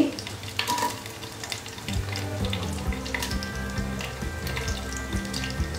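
Onion fries in a pan in a Coorg-style home kitchen, giving a continuous close sizzle with stirring scrapes and clatter, while a low rumbling hum and some running-water-like noise sit underneath; nobody speaks.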